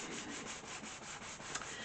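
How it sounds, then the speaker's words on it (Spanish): Fine 500-grit sandpaper wrapped on a block is rubbed over a shellac finish in quick back-and-forth strokes, a soft, rhythmic, faint hiss with no voices. "Si nos resulta más cómodo, podemos poner la lija en un taco para lijarla"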